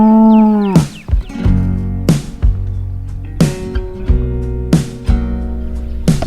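A family milk cow moos nearby in long, low, drawn-out calls, broken by several sharp clanks or knocks at close range. No one speaks.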